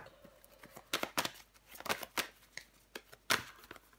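Tarot cards being handled and laid down on a table during a reading, a string of close, crisp slaps and shuffles in an irregular rhythm, fairly quiet.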